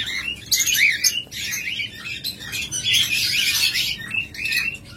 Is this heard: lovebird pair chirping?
yes